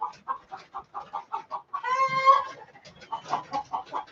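Chicken clucking in a steady series of short bursts, with a louder, drawn-out squawk in the middle, close and clear with no talking.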